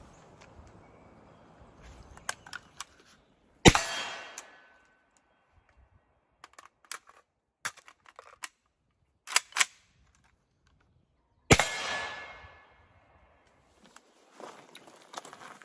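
An AK rifle reload: a sharp metallic magazine change, a loud rake of the charging handle and a rocked-in magazine, with several crisp clicks and clacks spaced by quiet pauses, handled close up with no talking.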